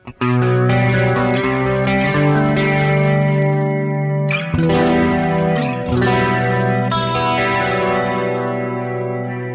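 An electric guitar rings out chords through a Sonicake Warped Dimension chorus pedal at mild depth, the tone wavering and shimmering, loud and close with no voices.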